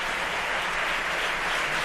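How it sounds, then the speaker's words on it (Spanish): Socialist Group deputies in the Spanish Congress applaud during an investiture debate, a dense, steady wash of clapping that fills the chamber at an even level throughout, with no talk heard over it. "que recibe el aplauso de todos los diputados del Grupo Socialista"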